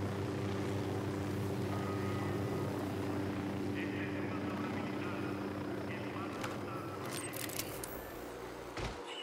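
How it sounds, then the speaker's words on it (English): In the video game Ghost Recon Wildlands, an enemy helicopter drones overhead with a steady rotor hum throughout, under game voices and scattered effects. "Chopper, hit the dirt."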